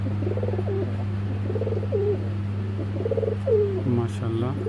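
Khaki Giribaz pigeons, a breeding pair, coo repeatedly in rhythmic bursts close by, over a steady low electrical hum, with a rustle near the end.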